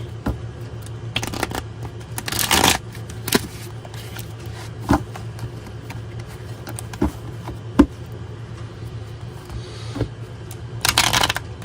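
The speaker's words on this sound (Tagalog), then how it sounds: "Balasahin muna po nating maigi." A deck of cards is shuffled close by, with bursts of riffling flutter broken up by scattered soft taps and clicks as the cards are handled.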